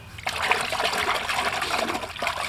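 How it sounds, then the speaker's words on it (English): Fingers swish and dip through about a gallon of water in a bucket, stirring in liquid soap, giving close, continuous sloshing and trickling sounds with no talking. "I get about a gallon of water in my bucket and I just dip a couple fingers in here"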